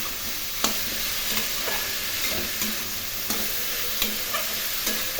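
Potato and cauliflower pieces fry in a pan for a cauliflower curry, a constant sizzling hiss broken by regular scraping clacks of a spatula stirring every second or so, close and with no talking.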